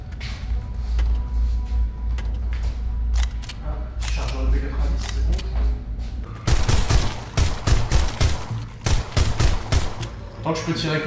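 P90 submachine gun fire in a video game, rapid bursts of shots over a low rumble that grow denser and louder in the second half, with a voice talking throughout.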